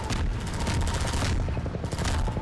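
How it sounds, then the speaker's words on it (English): Rapid repeated shots from a rechargeable gun in Half-Life 2, loud and dense, with a short dip in the middle before the firing resumes. "I'm shooting you with this rechargeable gun!"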